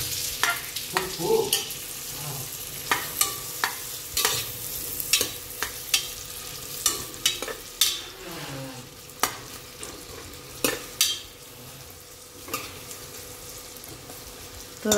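Chopped onion sizzles in melted butter for pav bhaji, a constant hiss punctuated by regular scraping taps of a spoon stirring against the pan.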